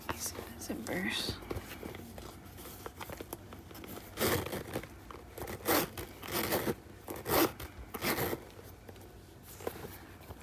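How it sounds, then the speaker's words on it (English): Zippers on a black YSL Toy LouLou bag with gold hardware are pulled open and closed in several quick, close rasping bursts, mixed with plastic crinkling and a softly speaking voice. "These are zippers."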